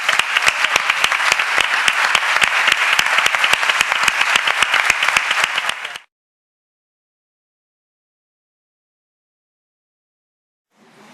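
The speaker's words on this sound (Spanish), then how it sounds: "nosotras les queremos dar a ustedes un fuerte aplauso por todas sus intervenciones" An audience at a mind-body medicine conference claps in a brisk, rhythmic burst of sharp individual claps for about six seconds, then stops abruptly into silence before a faint sound returns at the very end.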